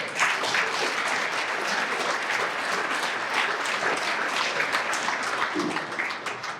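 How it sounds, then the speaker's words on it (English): Sustained, dense applause from an audience at an awards night, steady and loud throughout with no talking over it. "Can we give one more round of applause for our little women?"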